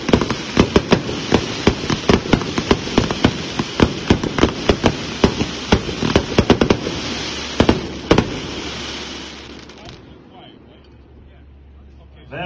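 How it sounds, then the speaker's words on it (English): A Happy Family Out of This World firework cake, packed 1-2 with 48 shots, fires a rapid string of sharp bursts with loud cracks for about ten seconds, then falls away into quiet crackling. "Up next is number 15, Out of This World. Packed 1-2, 48 shots."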